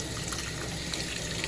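Tap water runs steadily into a kitchen sink while sliced tomato is rinsed to wash away the seeds, a continuous even splashing gush close to the microphone.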